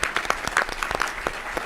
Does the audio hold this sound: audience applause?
yes